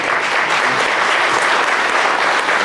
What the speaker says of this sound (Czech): Pane hejtmane, tento potlesk, tohle přivítání patří jen a jen vám.